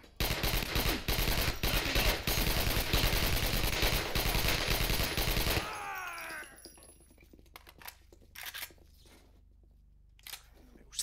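Loud, dense automatic gunfire from a terrorist's weapon in the video game SAS Secure Tomorrow, a sustained rapid burst for about six seconds that cuts off abruptly, followed by quieter scattered game sounds.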